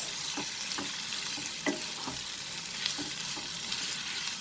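Prawns frying with onion, green chili and curry leaves over a medium flame, a steady close sizzle broken by irregular scraping stirs of a spoon against the pan, with no voices.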